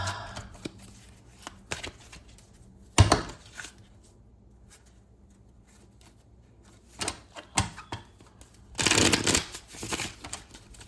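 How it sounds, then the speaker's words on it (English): A deck of Robin Wood tarot cards being shuffled and pulled, giving bursts of riffling and sliding card noise between quieter pauses, close and clear with no speech. "We're just going to pull a handful of cards, see what comes up, use some clarifiers if we need to"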